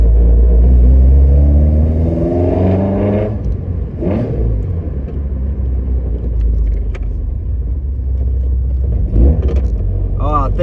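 Car engine fitted with individual throttle bodies, a loud deep rumble that rises in pitch as it accelerates, then settles into a steady drone, with a voice speaking over it.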